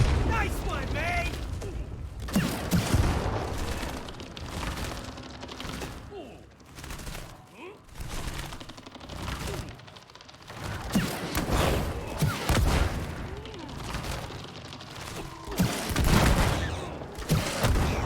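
Bursts of gunfire in the co-op game It Takes Two, rapid volleys and booms recurring across the stretch amid game effects and mechanical clatter, with a voice heard at points.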